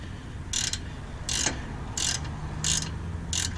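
Allen key and wrench tightening the nut on a Whiteline sway bar end link of a 10th gen Honda Civic Sport hatchback FK7, giving five short, evenly spaced ratcheting clicks over a low background hum.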